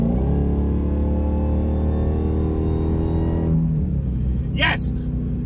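A 2023 Dodge Demon 170 V8 engine rumbles loudly with a deep, steady, growling tone for about three and a half seconds, then its roar drops away abruptly, leaving a quieter background.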